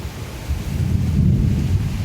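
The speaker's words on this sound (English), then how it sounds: "as the storm starts to really gather strength here." Rolling thunder and steady rain of a thunderstorm gathering strength, a low continuous rumble that swells and stays loud throughout, with rain hiss underneath and no voices.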